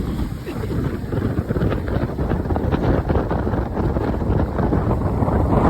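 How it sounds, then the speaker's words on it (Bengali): Strong wind gusts across the microphone outdoors beside cold water, a steady, loud low roar with buffeting that holds throughout without pause. "প্রচন্ড বাতাস, পানি ঠান্ডা"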